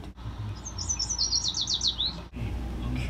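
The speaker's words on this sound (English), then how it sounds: "Bird." Bird chirping in a quick series of high, bright tweets, about a dozen rapid notes in a descending run, clear and close over a quiet background.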